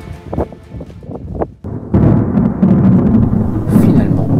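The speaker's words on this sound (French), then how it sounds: "Et mercredi, un orage nous était annoncé." Thunder from a storm in the mountains near Saint-Véran rolls in as a deep, loud rumble that swells and carries on after a few short sounds at the start.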